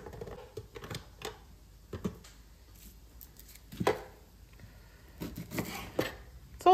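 Irregular chopping clatters and thuds from a hand-operated chopper cutting onions repeat up close, with pauses between strikes.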